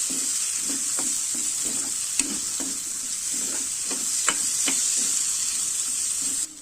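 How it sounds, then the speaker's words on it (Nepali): Green peas frying with spices in a pan, stirred steadily for Nepali matar paneer curry: a constant bright sizzle with regular scraping strokes of the spoon roughly every half second, close and continuous. "यो राखिसकेपछि पनि हामीहरू केही समय यसरी चलाउँदै भुट्दै गर्नुपर्छ।"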